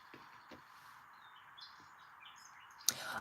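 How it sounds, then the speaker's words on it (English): Birdsong from a nature soundtrack plays softly and steadily, with faint scattered chirps and tweets running through the whole stretch and one sharper, brighter call near the end. "this is actually a soundtrack that I found because nature and birds make me very happy and relaxed"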